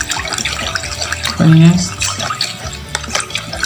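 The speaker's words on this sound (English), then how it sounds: "This is a natural salt that we have dissolved inside water and we are stirring it" Natural salt dissolved in water is stirred for homemade body lotion, giving soft sloshing and liquid swirling with a few brief knocks, while a person talks over it.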